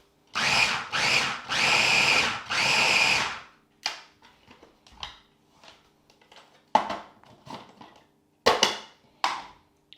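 A KitchenAid mini food chopper grating cheese runs in four loud bursts of whirring motor, then falls to scattered knocks, short pulses and rattles of the bowl.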